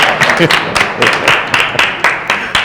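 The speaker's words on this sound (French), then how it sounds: "Et on peut applaudir ça" An audience at a French-language challenge finalists' event applauds, a loud, close burst of clapping from a modest crowd lasting a few seconds, with faint talk mixed in.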